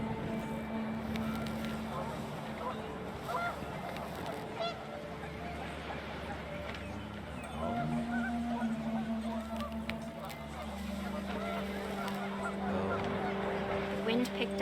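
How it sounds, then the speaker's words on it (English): Panicked geese honk in the video game What Remains of Edith Finch, several calls scattered over wind and ambient background, with a voice narrating over them throughout. "The wind picked up and panicked geese appeared and quickly went."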